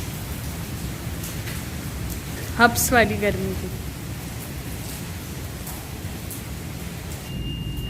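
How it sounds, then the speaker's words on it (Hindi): Steady rain with wind falls outdoors during an evening downpour after hot weather, a constant dense hiss throughout, with someone speaking briefly over it. "मुस्तकिल बारिश हो रही है माशाल्लाह से।"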